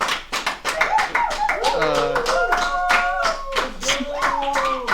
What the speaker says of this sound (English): I hate this. I hate the clapping.